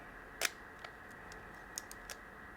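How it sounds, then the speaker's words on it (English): A Leica M6 film camera's shutter fires with a sharp mechanical click, followed by a few fainter ticks and clicks from handling, heard close up and alone against a quiet background hiss. "activate the shutter"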